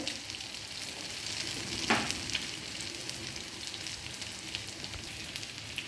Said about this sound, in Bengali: অল্প আঁচে ভাজা হবে